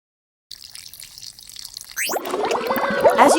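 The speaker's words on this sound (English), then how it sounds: "Soapy water." Soapy water for a SpongeBob bubble bath toy begins as a faint trickle, then turns into a louder, splashing pour with bubbling for the last second or so.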